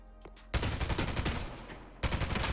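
Hipfire shots from the Crusader gun in the shooter Spectre Divide, two loud close bursts of rapid fire separated by a short gap, with no talking.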